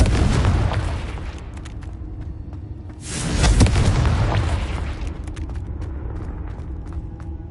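A Confringo blasting spell from Hogwarts Legacy goes off as one loud, booming explosion about midway, rolling into a rumbling tail over an ongoing din of spell combat.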